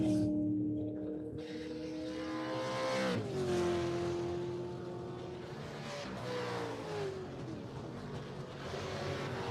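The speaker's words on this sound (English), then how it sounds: "car number 14 of Ashton, his team. It's getting a little bit on the grass there" Club racing cars at a Manawatu Car Club winter series round, engines droning and shifting pitch as they accelerate and pass, loud and continuous with gear changes audible.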